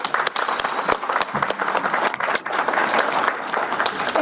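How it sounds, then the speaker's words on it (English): An audience at a League of Women Voters candidate forum in Sugar Grove applauds the candidates, a dense, steady round of clapping from a mid-sized crowd lasting about four seconds without speech. "So let's give these candidates a round of applause."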